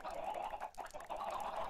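Faint, muffled clucking from chickens in Minecraft, a short low-level stretch of soft repeated fowl calls.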